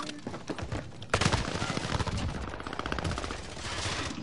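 Rapid automatic gunfire from a video game rattles loud and nearly continuous, with a sharp burst near the start and sustained bursts throughout.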